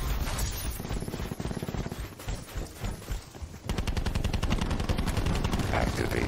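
Gunfire in Call of Duty: Black Ops 4, with scattered shots and bursts giving way to sustained rapid automatic fire, loud and close, mixed with faint in-game voices.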